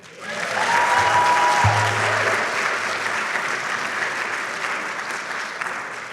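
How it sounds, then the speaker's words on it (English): A round of applause at a government institute graduation ceremony, a loud, dense crowd clapping that swells quickly and holds steady, with a brief voice briefly audible over it early on. "Can we give another round of applause for Frank?"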